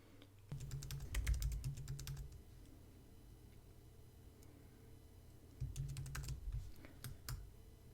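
Bursts of rapid keystrokes on a computer keyboard, close and crisp, come in two clusters separated by a quiet pause, with scattered single clicks after.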